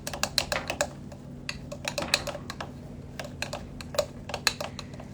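A spoon stirs a homemade solid shampoo mixture in a bowl, making irregular, close, crisp clicks and taps in quick clusters over a faint steady hum.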